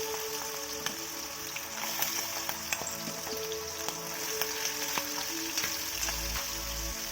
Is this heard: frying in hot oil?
yes